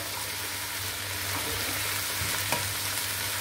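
Yardlong beans frying in a pan with a steady low sizzle and hiss, a light stir and one small clink near the end, close-up and fairly quiet, with no one speaking.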